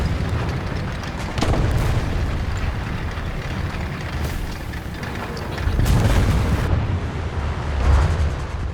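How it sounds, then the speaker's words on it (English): Artillery strikes in the War Thunder tank game land in a series of deep, booming explosions, several heavy blasts spaced a few seconds apart over a constant rumbling battlefield din. "I'm going to drop an artillery down there."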